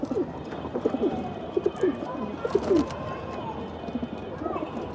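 Pet pigeons coo softly and repeatedly in low, rolling calls, close by, with a faint background hum.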